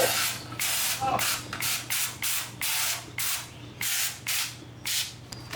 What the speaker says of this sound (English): I'm going to spray down the pan because I don't want it sticking to the pan.